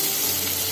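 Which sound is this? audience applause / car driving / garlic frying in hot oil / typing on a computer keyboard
garlic frying in hot oil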